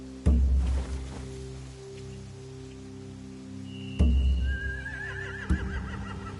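Horses whinny at night near torches and hay in the video game The Walking Dead: The Final Season, with a high neigh rising out of a low ambient drone and a few dull thuds.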